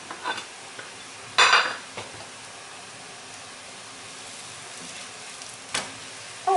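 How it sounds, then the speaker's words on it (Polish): Crepes frying in a pan and being flipped, a faint, soft sizzle with a few sharp clatters of a utensil against the pan, heard close and with no speech. "Obracamy i smażymy z drugiej strony."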